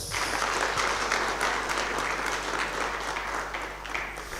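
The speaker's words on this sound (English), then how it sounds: "Another round of applause." A lecture audience applauds steadily, a dense, sustained clapping from a full room that fades slightly toward the end.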